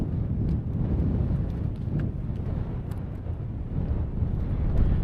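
Wind blowing across the open fell tops near Esk Hause in the Langdale area of the Lake District, a constant low rumble buffeting the microphone without pause.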